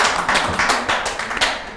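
A small audience claps to welcome a guest neurologist onto a podcast set, a few uneven bursts of hand claps close by, with no voices over them.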